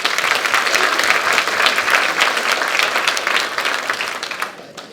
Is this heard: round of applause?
yes